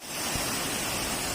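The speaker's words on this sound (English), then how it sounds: "We are going to waterfall, Tirtosari waterfall." The Tirtosari waterfall rushes in a dense, steady roar of falling water, loud and close, with no pauses or voices.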